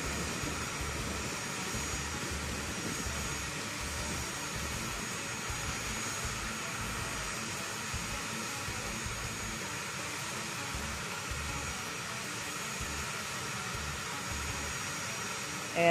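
A fighter jet engine running on the ground at an air national guard fighter wing, a steady loud roaring hiss of turbine noise that holds evenly throughout without any speech.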